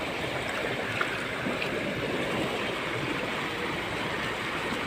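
Floodwater rushes steadily past in a barangay in Toril, Davao City, a dense, continuous broadband roar of flowing water with no breaks, heard alone at moderate distance.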